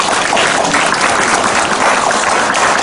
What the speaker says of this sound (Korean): 우리 성가다에게 격려의 박수 하겠습니다